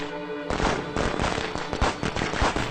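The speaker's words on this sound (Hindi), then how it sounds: "पटाखे कौन दगा रहा है?" Firecrackers going off in rapid, irregular bursts of sharp cracks and pops, loud and fairly close, with a few stutters bunched together and no talking.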